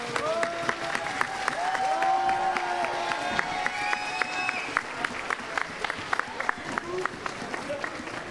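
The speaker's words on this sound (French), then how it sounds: "vous pouvez vous applaudir, applaudissez sur tout le monde" Applause from a student audience after a school debate, a dense steady patter of many hands filling the room, with scattered cheers and voices rising through it.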